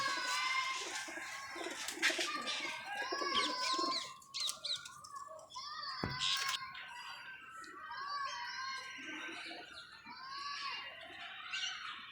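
Pet pigeons call and coo in a breeding loft, several birds at close to middle distance overlapping in repeated throaty phrases, with a rooster crowing among them and a brief sharp knock partway through.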